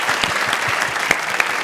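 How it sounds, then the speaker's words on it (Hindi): A studio audience at a Pakistani comedy talk show claps steadily in dense, sustained applause, loud and close, with no pauses. "ताली होनी चाहिए रामेश के लिए"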